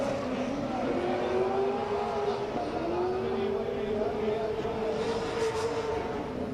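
Nissan S15 drift car accelerating hard at a drift competition, its engine note rising and falling in steady sweeps as it holds a slide, loud and continuous with faint commentary beneath.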